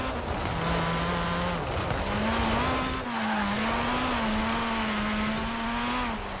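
A sports car's engine drones at a steady pitch with rising and falling revs and a squeal of tires on a racing track in the Forza Horizon 4 video game, loud and continuous with no speech.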